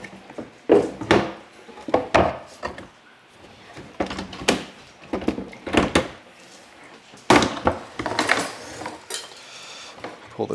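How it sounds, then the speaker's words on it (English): Repeated wooden sliding scrapes and clattering knocks of a kitchen knife drawer being pulled and pushed, with rattling metal contents, close by and uneven in rhythm. "Pull the drawer out."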